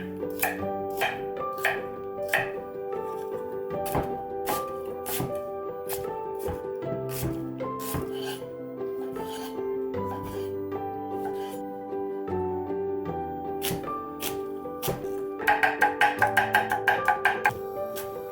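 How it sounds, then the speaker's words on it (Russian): Knife chopping turkey meat on a cutting board for an Afghan kazan dish, steady close taps in an uneven rhythm, ending in a quick rapid burst, with no talk. "Нарезать мясцо можно как вам угодно."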